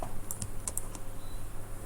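Computer keyboard keys tapping in a few quick, light clicks during a Roblox Flee the Facility game, set over a steady low background hum with no talking.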